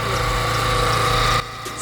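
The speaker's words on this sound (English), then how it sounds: "the engine has started. It started relatively easy, but you can see it a misfire." A 2011 Nissan Teana engine, just started with a misfire, idles roughly with a steady low throb and slightly uneven pulsing, then drops off near the end.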